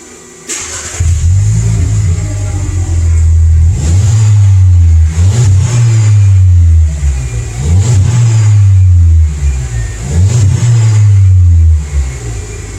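A VW MK7 Jetta with the 1.4t engine and its muffler cut off revs repeatedly from idle, each blip rising into a raspy, loud exhaust drone and falling back, about five revs in a row.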